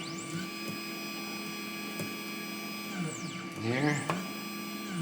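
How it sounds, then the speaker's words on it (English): On a 3018 CNC router with an upgraded spindle, the carriage is driven back and forth, giving a steady whining hum with sweeping motor tones rising and falling close by, while someone speaks over it. "now run your spindle back and forth"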